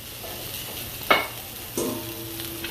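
Peppers and onions hit a hot pan with a sudden burst of sizzle, followed by a second loud crackle that settles into a steady frying hiss, close and alone.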